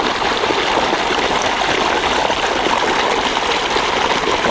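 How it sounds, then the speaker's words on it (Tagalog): Strong river water rushes steadily beside a riverbank, a dense broadband roar of flowing stream that stays loud and continuous throughout with no voices. "Lakas ng tubig oh. Nakaganda po pagkatabing ilog."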